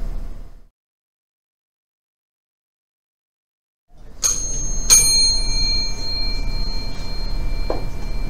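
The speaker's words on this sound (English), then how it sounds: "that bell means it's 3 o'clock" A bell rings out to mark three o'clock, coming in suddenly after several seconds of silence with a bright struck tone whose ringing partials hang over a steady background hum.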